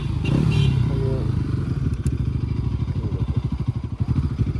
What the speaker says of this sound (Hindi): चलो भाई बाइक अभी चलेंगे।